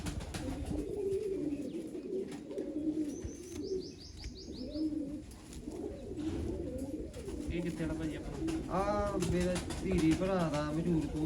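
Pigeons coo in soft, repeated low calls with a few brief chirps, under a steady background hum, fairly close.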